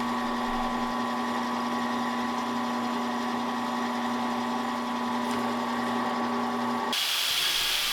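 A drill bores holes in steel flat bar in a workshop, giving a steady, loud whining hum with constant tones. The pitch holds throughout, then the sound shifts to a harsher, brighter hiss near the end.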